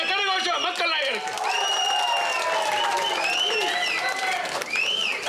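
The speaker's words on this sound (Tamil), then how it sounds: "பலமான கரகோஷம் மக்கள் நாயகருக்கு" A crowd applauds actor Ramarajan at a film audio launch event, loud sustained clapping and cheering with shouts and whistles rising above it, while voices call out across the hall.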